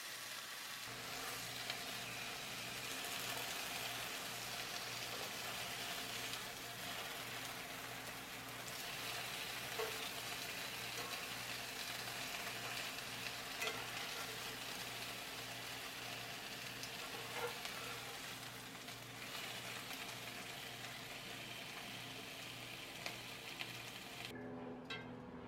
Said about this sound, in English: I also add bits of the turkey that is going to be on the sandwich as well on the pan, and just let that heat up for a little bit